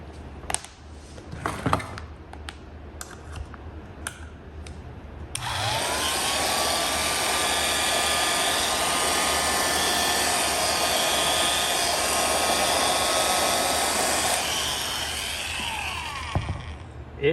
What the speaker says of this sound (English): It has got a fantastic old motor sound.